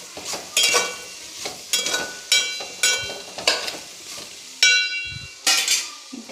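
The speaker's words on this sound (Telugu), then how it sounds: "చిలకడ దుంపని ఫస్ట్ చిన్న చిన్న ముక్కలు ఫ్రై చేసుకోవాలి." Small sweet potato pieces fry in a pan with sugar. A spatula scrapes and knocks against the metal in regular strokes over a soft sizzle, close and clear, with no voices.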